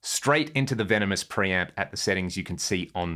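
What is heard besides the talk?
No everyday noise stands out behind the speech.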